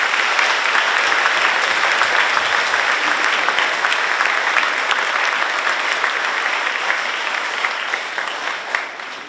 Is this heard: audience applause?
yes